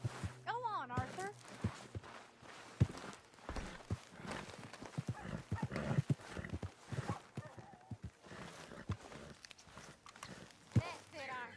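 Hooves clip-clopping at a walking pace on a hard surface, with voices talking over them and a brief whinny near the start.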